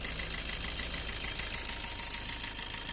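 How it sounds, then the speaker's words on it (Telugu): A 2019 Maruti Ertiga ZDI+ diesel engine idles with a steady, rough rumble and faint knocking, continuous and close, with no voices. "ఇంజన్ సౌండ్ మాత్రం ఇట్లా ఉంది"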